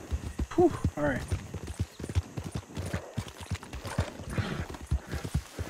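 A horse gallops in Red Dead Redemption 2, its hooves beating fast and steady close by, with a snort or whinny early on and a voice talking over the run.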